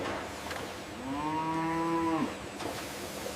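A single cow at a leather factory gives one drawn-out moo of about a second, heard nearby over a quiet background hum with no talking.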